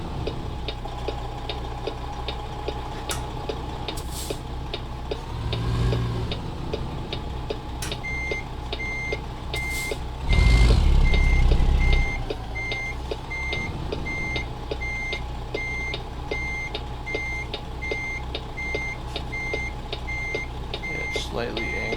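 In a truck simulator game, a truck backs up with a trailer, its reversing alarm beeping steadily over a low idling engine hum, with a short louder rumble midway and a voice speaking briefly.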